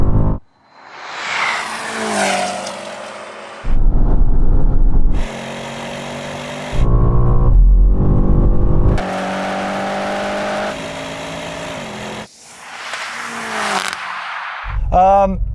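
Tuned car, a BMW M8, Mercedes-AMG GT 4-door or Porsche Panamera Turbo, launching hard in a drag race with loud engine roar and tyre squeal, then blaring against the rev limiter in sustained buzzing bursts, with a brief voice near the end.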